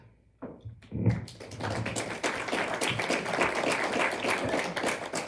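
Applause from a crowd at a school board candidate forum. A few isolated taps come first, then it swells into sustained clapping from many hands that holds steady to the end.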